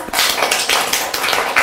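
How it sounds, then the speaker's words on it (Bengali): A class of children clapping loudly together, a dense burst of many hands applauding steadily for about two seconds. "তাহলে একটা জোরে হাততালি দেই।"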